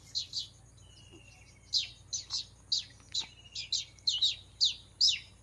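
A voice imitating a male house sparrow, giving a run of sharp, bright chirps in quick bursts, clear and close against a quiet background.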